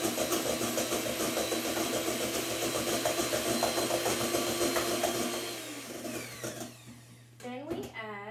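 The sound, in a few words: electric mixer beating egg whites on medium speed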